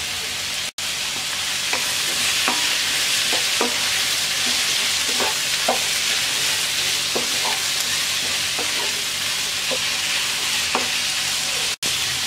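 Papaya pieces frying in a pan with turmeric and salt sizzle steadily up close while a spatula scrapes through them in regular strokes about every second.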